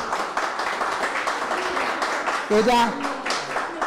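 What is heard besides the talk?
applause for a girl at a Mother's Day gathering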